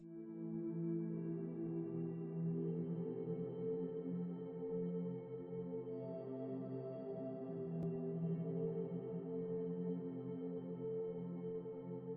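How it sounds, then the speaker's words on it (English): A soft ambient synth pad drifts in the background of a beat, a steady, warm sustained chord held quietly throughout. "another element I added was this ambient pad in the background"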